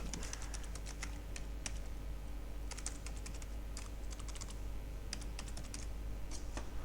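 Rapid typing on a computer keyboard comes in irregular bursts of light, crisp key clicks, close and alone over a steady low hum.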